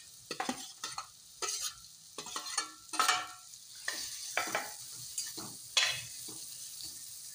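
Close, rhythmic scraping strokes of a spoon stirring a turmeric spice mix in a pan, with light sizzling between the strokes and no voices.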